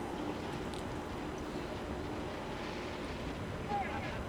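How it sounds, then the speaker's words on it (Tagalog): Wind buffets the microphone during an outdoor road bike race, a continuous low rushing roar under a faint motor hum, steady throughout. "Hangin."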